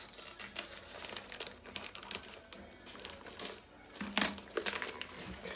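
A plastic bag crinkles as an inner bag is pulled out of an outer one during an unboxing, with soft continuous rustling and a few sharper crackles near the end, close and fairly quiet.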